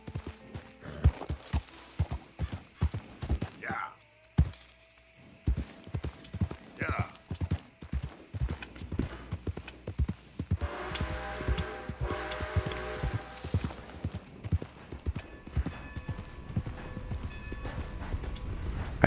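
Steady clip-clop of horse hooves at a trot, with an occasional whinny, under busy sounds from the game Red Dead Redemption II and someone talking.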